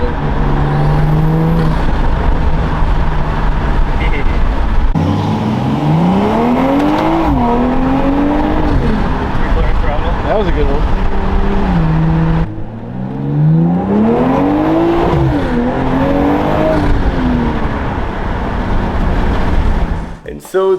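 BMW M240 from 2023 with a B58 engine and Dinan intake, revving loudly in repeated rising and falling sweeps, with turbo flutter between pulls and a brief cut near the middle. People talk over parts of it.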